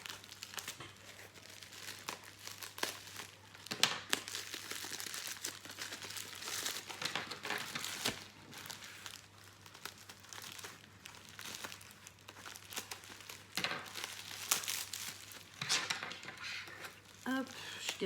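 Crinkling, crackling bubble wrap unwrapped from a diamond painting kit up close in busy bursts, with a person talking over much of it.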